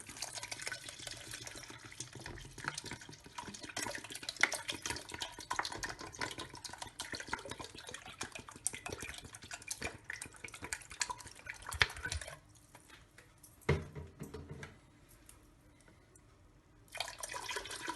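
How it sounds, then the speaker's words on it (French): Water pours into a pot of harira soup with onions and parsley, a steady splashing stream that runs loud and continuous before thinning into quieter trickles and drips near the end. "Donc je vais rajouter mes 2 litres d'eau."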